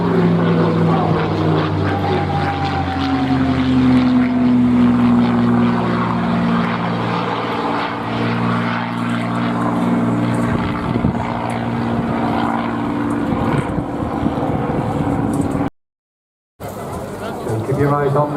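Propeller warbird aircraft flying a display at East Midlands Airport, a steady droning engine note holding throughout with a commentator talking over it, cutting out briefly near the end.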